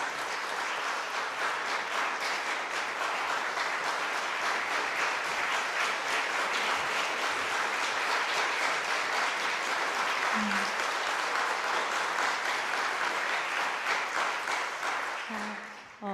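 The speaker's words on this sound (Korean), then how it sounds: "박수로 환영하겠습니다" A church congregation at a Friday late-night prayer service applauds to welcome a missionary to the front, steady dense clapping sustained for about sixteen seconds before tapering at the end.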